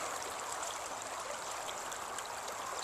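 A mountain stream in North Georgia flows close by, a steady, loud rushing and gurgling of water that continues unbroken.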